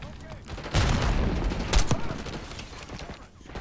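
Gunfire in the Call of Duty Black Ops 6 campaign, a dense rumbling burst of shots with a sharp crack partway through, fading to quieter background noise, moderately loud with some game sound underneath.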